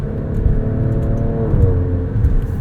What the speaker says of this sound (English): Love those crackles between shifts from the exhaust.